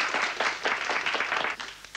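A studio audience at a television entertainment show claps in a brief burst, with lively, rhythmic hand-clapping that stays loud and even before quickly tapering off.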